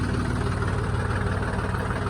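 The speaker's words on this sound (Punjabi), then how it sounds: "ਟਰੈਕਟਰ ਸਲਿੱਪ ਕੱਢਦਾ ਪਿਆ" A tractor engine rumbles steadily up close while slipping on wet ground, a constant low, heavy drone with no pauses or voices.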